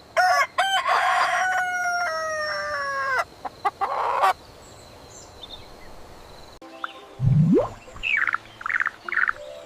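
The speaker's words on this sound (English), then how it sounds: "It's a rooster." A rooster crows a loud, drawn-out cock-a-doodle-doo near the start, followed by short clucks and a few sharper bird calls later, with brief quiet gaps between the sounds.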